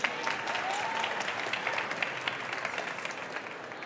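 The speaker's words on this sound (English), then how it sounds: "I would like to keep that applause going" Steady applause from a TEDx audience, dense clapping from a large crowd that holds at an even level for the whole stretch.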